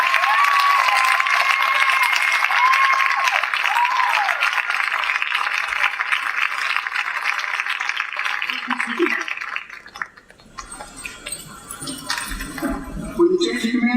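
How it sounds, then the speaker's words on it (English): Outdoor crowd applause at a high-school NJROTC evening parade, a steady broadband wash of clapping for about ten seconds, then fading to scattered claps and voices as someone speaks over the tail. "How about a round of applause for these two fine men?"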